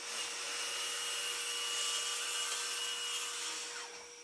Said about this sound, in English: I'm going to use the track saw to do that.